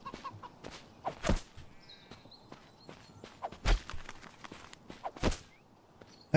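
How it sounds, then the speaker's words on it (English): A chicken in the survival game Incur Survival gives a few faint clucks as it is poked, under scattered footstep-like thumps and soft impacts. "How many times have we got to poke a chicken?"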